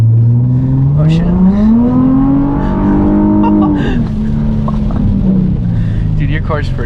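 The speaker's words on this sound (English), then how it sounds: "your car's pretty loud" A Nissan 350Z engine revs hard while street drifting in stormy weather, a loud, close, sustained roar rising and falling in pitch over several seconds, with faint chatter from occupants partly under it.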